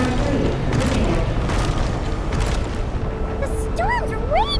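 Deep booming explosions rumble through a raging storm in a sci-fi video game, dense and loud, with sharp bursts and rising electronic warbles near the end, while a voice speaks over the din.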